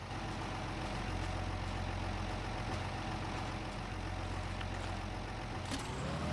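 Old tractor engine in the Farming Simulator 25 game, a steady low idling rumble that runs unbroken and moderately loud, with a faint clank near the end.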